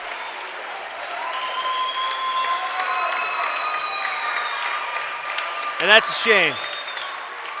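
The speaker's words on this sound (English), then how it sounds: "The home crowd gives him a standing ovation for a game well played" A home crowd at a 2013 boys high school basketball game, Tabiona at Altamont, gives a standing ovation, with steady sustained applause filling the gym while an announcer talks over it.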